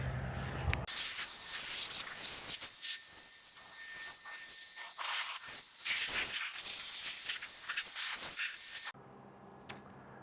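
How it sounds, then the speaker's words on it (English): A Rad Company Slim Dryer blower pushes air over a ceramic-coated car, a strong fluctuating hiss and rush of air lasting most of the clip, then cutting out to quiet background. "I just do a superficial dry with the blower just to kind of get everything out of the nooks and crannies"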